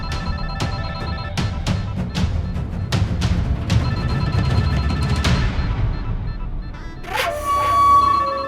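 A telephone rings with repeated sharp metallic trills at a regular pace over a low rumbling background, then a higher electronic tone sweeps in near the end.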